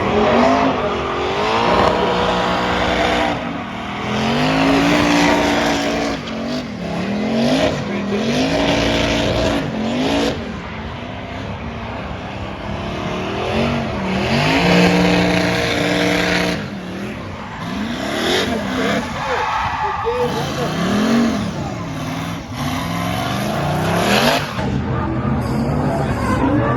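A twin-turbo small-block Ford Mustang driving on a track at a Ford festival: loud, sustained engine roar with repeated rising and falling revs as it accelerates and shifts, close and dominant throughout, with occasional tire noise.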